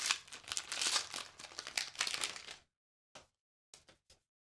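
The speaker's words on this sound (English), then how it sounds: "Let's open up our third pack" A Pokémon card booster pack wrapper is torn open, close and crisp, with a continuous crinkling, tearing foil rustle for over two seconds, then silence broken by three or four short isolated crinkles.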